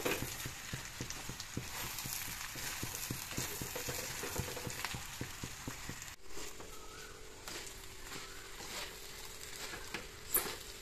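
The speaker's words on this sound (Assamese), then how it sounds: "দেখিছেনে ভাজোতে একদম ৰংচঙা হৈ গৈছে" Ginger and pulao ingredients fry together in a pan with a continuous quiet sizzle and rapid crackling, easing into a softer, more even hiss partway through.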